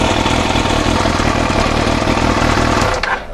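A 1999 Yamaha R1 motorcycle engine idling close by, a loud, steady, throbbing rumble that is cut off abruptly near the end.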